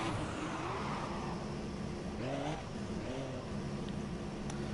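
F1 car engine in the F1 2017 racing game revving through a quick donut on track, a steady mid-loud engine drone with rising and falling pitch sweeps, no talk.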